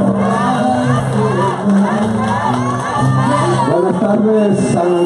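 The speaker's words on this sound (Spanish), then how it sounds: "Un fuerte aplauso, por favor." Crowd at an outdoor political rally in San Andrés cheering and clapping, a loud continuous roar of voices, shouts and whoops with music-like tones running underneath throughout.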